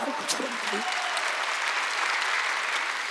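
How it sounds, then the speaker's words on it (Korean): A church congregation applauds during a Wednesday worship service, steady, full clapping throughout, with a brief voice at the very start. "박수야."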